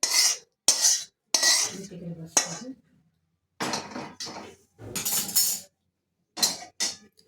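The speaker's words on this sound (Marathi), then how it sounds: "पाक गरम आहे पण चमच्यानेच मिक्स करूया" Spoon clinking and scraping against a metal pot or bowl while hot sugar syrup is mixed into a laddu mixture, in several close, bright bursts separated by short pauses, with no talk.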